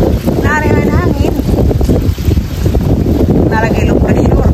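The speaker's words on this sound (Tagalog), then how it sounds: "Nari na hangin." Strong wind from a low-pressure storm roars loudly and steadily against the microphone throughout, with a few brief tonal voice-like sounds rising above the buffeting.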